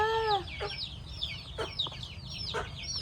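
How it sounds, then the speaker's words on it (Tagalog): Chickens cluck nearby while chicks cheep in rapid high peeps, overlapping irregularly across the clip, with one louder call at the start. "Mga sisiw na yan."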